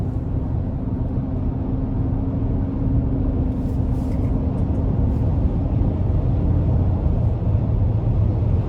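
2021 Chevrolet Traverse High Country AWD accelerating under throttle: a steady, loud low engine drone and road rumble fill the cabin without any break for the whole stretch.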